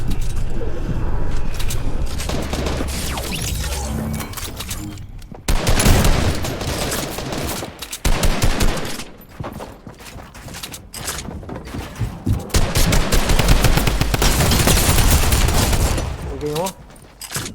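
Fortnite gunfire rattles in loud rapid volleys broken by short pauses, with bursts and single shots recurring across the whole stretch.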